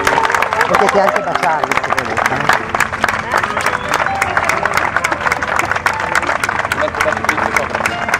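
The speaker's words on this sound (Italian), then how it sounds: "Un applauso per favore." Wedding guests at a symbolic ceremony burst into sustained, dense applause for the newlyweds, clapping steadily throughout while a celebrant speaks over it.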